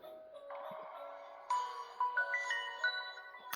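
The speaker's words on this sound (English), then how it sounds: "it's got the actual original boot up animation as well as the sound" Original boot-up jingle of a 2011 S2 phone: a short electronic melody of bright, rising tones played at moderate volume from a small speaker, ending in a few brisk notes.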